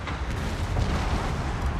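Explosive cannon shells burst in a Shogun 2: Total War Fall of the Samurai battle, a dense, continuous rumble of booms and blasts filling the whole moment with no pauses.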